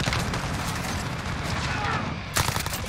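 Rapid bursts of new-pistol gunfire in the shooter game Modern Warfare, dense and continuous with a sharper, louder shot near the end, faint speech underneath.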